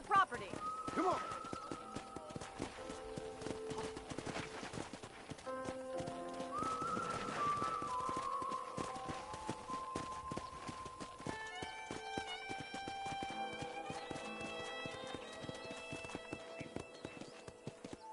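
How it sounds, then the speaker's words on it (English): Horse hooves clip-clop steadily through the Red Dead video game, a continuous trotting patter under layered orchestral music and someone talking throughout. "I picked out a fine horse for you"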